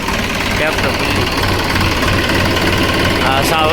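A tractor engine runs in a loud, constant close-up drone with a rough, vibrating throb, and a voice faintly surfaces beneath it.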